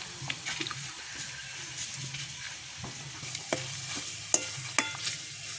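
Papadums and chillies frying in hot oil in a village kitchen, a steady faint sizzle with scattered crackles and pops, no talking.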